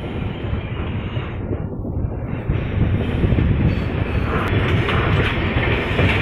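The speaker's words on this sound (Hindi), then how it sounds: "गाइस ये देखिए कामाख्या रेलवे स्टेशन।" A train rolls through Kamakhya railway station in Guwahati with a loud, continuous rumble and rattle of wheels on track that swells slightly midway, steady and close with no talk.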